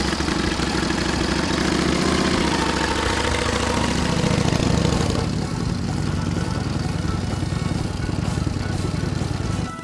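A 1931 Indian Scout 101 motorcycle's V-twin thumps steadily at close range, its throbbing note swelling as the throttle opens, then easing back into a loose, rumbling idle.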